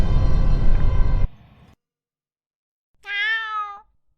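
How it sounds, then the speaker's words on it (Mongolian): A single drawn-out black cat meow in the horror game Dread Neighbor, clean and electronic-sounding, comes after a burst of loud noise that cuts off into silence. "Хар муур."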